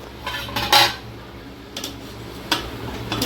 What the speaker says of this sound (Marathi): एकदा आपण हलवून घेऊ मसाला.